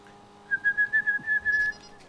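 A thin, high whistling tone from a television pulses in a quick series of short bursts, fairly close and clear over faint background hum.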